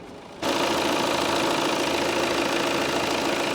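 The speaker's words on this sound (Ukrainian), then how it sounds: "Як красиво працює мотор. Рівненько, так?" A Volvo V90 D4 diesel engine idles steadily after starting abruptly, a dense even rumble with a faint knocking texture that holds constant throughout.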